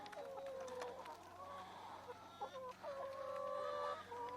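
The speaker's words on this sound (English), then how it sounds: "Hens are still eating, but there's no major demand for food." Several hens cluck softly and intermittently while feeding, with short rising calls scattered across a steady farmyard background and no talking.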